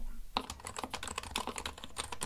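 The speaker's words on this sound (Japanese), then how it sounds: "本当キーボードの種類だけ打鍵音ってあるのような感じだと思ってます。" Rapid typing on a mechanical computer keyboard begins after a brief pause, with dense, close clacking keystrokes in a steady flurry.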